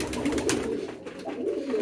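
Damascene pigeons cooing in a loft, low throaty coos repeating close by, a few rolling calls in quick succession with no talking.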